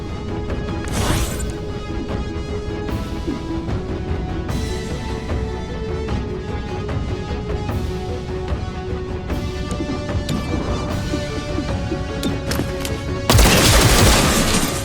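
Gunfire in the XCOM Chimera Squad video game: a couple of heavy, booming shots ring out over a steady musical score, with one near the start and a loud, harsh burst near the end.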